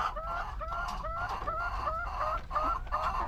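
Backyard chickens, a Rhode Island hen among them, give a run of about eight repeated clucks in a steady rhythm, fairly close and clear, with no one talking.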